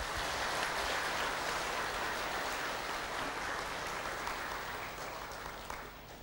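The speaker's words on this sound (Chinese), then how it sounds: "以热烈的掌声也谢谢自己吧" A large audience applauds at a Buddhist lecture on Nagarjuna's Bodhisambhara treatise, a dense and sustained wash of clapping that slowly fades toward the end.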